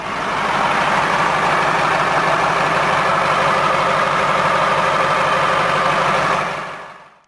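Detroit Diesel 8.2-liter V8 "Fuel Pincher" diesel in a medium-duty truck, running at a steady idle with a loud, even low rumble and a fast regular beat that holds for about seven seconds, then cuts off.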